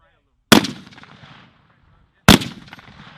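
Two loud, sharp rifle shots at an army range during a Fort McCoy, Wisconsin mobilization exercise, each a sudden crack with a decaying echo tail, spaced nearly two seconds apart in the open air.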